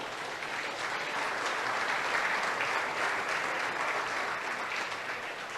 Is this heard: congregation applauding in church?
yes